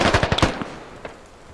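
Automatic gunfire in the military video game Squad, a quick burst of several sharp shots followed by a fainter single report, fairly close and loud with no talk over it.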